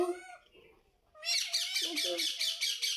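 An Indian ringneck parrot, a young bird from last year, gives a run of loud, close, repeated harsh squawking calls, preceded by a brief softer chattering.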